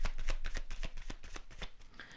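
Tarot cards are drawn and shuffled by hand, producing a close, steady run of crisp papery flicks and riffling slaps in quick rhythm, with no voice over it.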